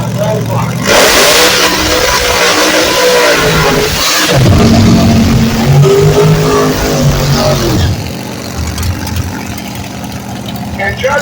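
A 1968 Dodge Dart drag car with a 572 cubic inch engine revs loudly at close range in surging bursts that rise and fall, with a voice talking over the engine noise.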